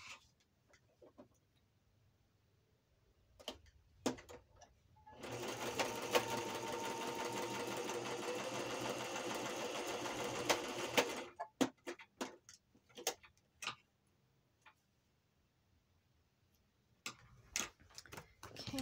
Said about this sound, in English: I'm going to go sew again